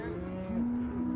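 A single short moo comes from a young, newly arrived yearling on a cattle farm, close and clear, rising slightly in pitch partway through.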